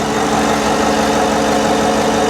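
A 5.3-liter V8 car engine idles smoothly and quietly at a steady, even hum, close by and continuous with no talk over it.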